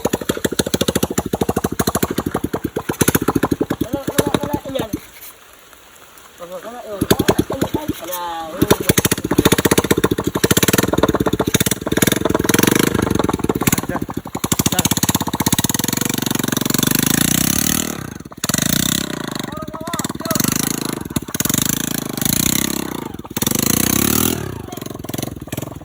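A motorcycle runs without an exhaust muffler, its raw engine rattling and roaring loudly almost throughout, dipping briefly around five seconds; people talk at a campsite under the noise.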